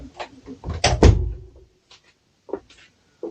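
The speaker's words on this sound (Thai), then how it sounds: "ปิดประตูหน่อย" A door in a home storage room swings shut with a solid thud after some shuffling and bumping, followed by a few quiet knocks and clicks.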